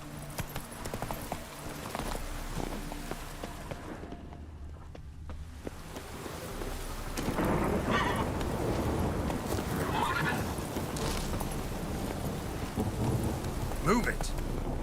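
Hooves of Roach, the horse in The Witcher video game, clip-clopping at a gallop amid a rainy thunderstorm with rumbling thunder, a neigh and a continuous wash of rain and wind that swells partway through.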